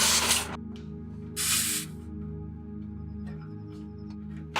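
An air compressor hose inflating the tires of an EarthRoamer SX expedition truck gives loud bursts of hissing air, two strong blasts separated by a steady mechanical hum from the running compressor.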